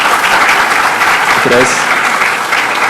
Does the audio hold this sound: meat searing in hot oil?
no